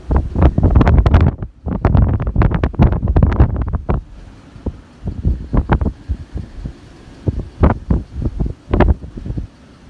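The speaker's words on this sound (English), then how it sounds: "Just take a little listen here to the wind." A severe wind storm roars at night in loud, sustained gusts of broadband rushing and buffeting noise that surge at first, then ease into choppier, fluctuating blasts. No one speaks.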